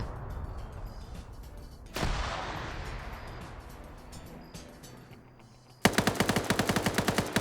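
Suppressive gunfire in a competitive video game match: a distant whoosh and rumble, then a loud, rapid burst of automatic fire that rattles steadily to the end.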